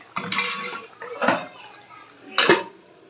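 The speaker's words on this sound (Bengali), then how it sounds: "চোলা রসটা একটু কমিয়ে ঢাকনা দিয়ে ঢেকে দিব" A lid goes onto a pan of hilsa fish cooking with tomato and ghee. Three separate clattering metallic knocks, close and fairly loud, are spaced about a second apart.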